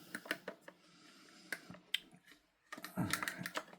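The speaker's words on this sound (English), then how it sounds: "we take the trigger group and we pop the trigger group into the rear of the receiver until you hear click" Trigger group of a GHK AUG gas blowback airsoft rifle pressed into the rear of the receiver: a few sharp, close plastic-and-metal clicks and light rattles, with a firmer snapping cluster near the end.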